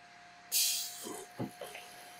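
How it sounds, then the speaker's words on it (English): A sudden sharp hiss of pressurized spray bursts out as 120 backflush jets scour a disc filter, followed by a few brief gurgling splashes and lesser spurts against a steady mechanical hum. "So you can see how rapid that backflush is"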